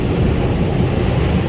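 An NYC subway R142 5 express train running between 86 St and East 180 St, heard as a loud, close, continuous rumble and rattle of wheels and cars with no voices.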